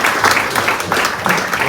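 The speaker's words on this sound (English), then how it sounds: "Everyone give themselves a round of applause" Brief burst of audience applause at a community ribbon-cutting event, a dense wash of clapping filling the short moment.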